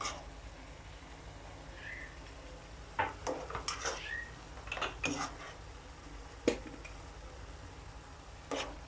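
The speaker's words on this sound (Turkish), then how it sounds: "Bir çay bardağı cevizimizi de ilave ettik. Karıştırıyoruz." Walnuts being stirred into a carrot mixture in a bowl for small carrot-walnut balls, with a scattering of light spoon-and-bowl clinks and scrapes, spaced irregularly over a quiet background.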